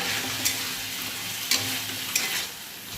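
Chicken pieces sizzling in a kadai with capsicum and onion, a steady broad frying hiss with a few sharp spatula clinks on the pan, close and unaccompanied by talk.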